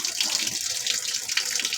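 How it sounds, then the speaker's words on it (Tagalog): Water pours steadily into the tub of an automatic washing machine during tub cleaning, a close, continuous splashing hiss with no talk. "kailangan pala i-start ito para magkaroon ng tubig, para tumulo yung tubig"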